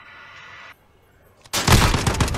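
Sharp burst of gunfire in an esports video game match, loud and dense after a brief quiet gap, with a steady synthetic tone sounding before it.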